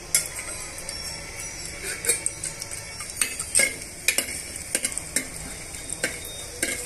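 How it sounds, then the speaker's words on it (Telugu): Star anise, cinnamon, cloves, shahjeera, black cardamom and stone flower fry in a pan for bagara rice, sizzling under a run of close, irregular spoon clinks and scrapes as they are stirred. "ఇవన్నీ కూడా వేయించేసుకోవాలి."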